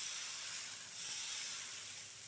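Dosa batter made for a fibre- and iron-rich dosai sizzles on a hot pan as a steady, close, broadband hiss that swells slightly midway and continues without a break.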